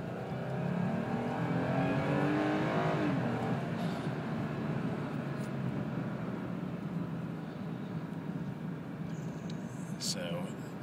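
A Lexus IS350 engine at full throttle during an evening drive, a loud sustained drone with a rising pitch sweep early on, then a steady roar heard from inside the car for the full length.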